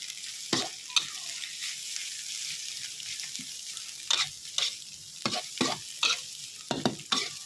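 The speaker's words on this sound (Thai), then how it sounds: "ผัดไปอีกสักสองสามนาทีนะคะ เพื่อให้ เชโปหวานมี ความไหม้ติดกระทะนิดนึง จะได้หอมๆนะคะ" Sweet preserved radish being stir-fried with egg in a pan, a soft steady sizzle broken by repeated scraping stirs of the spatula, close and fairly quiet, with no voices.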